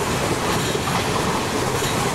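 A Coromandel Superfast Express in Train Simulator on PC passes through a station at about 117 speed, a loud, steady rumble of wheels and carriages with faint clickety-clack and no talking.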